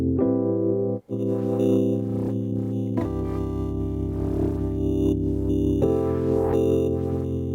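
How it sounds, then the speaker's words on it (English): A heavily saturated, distorted synth chord sustains and shifts through several changes, thick and buzzy with a brief dropout near the start. "Like saturation, distortion, that's kind of the vibes I get from this."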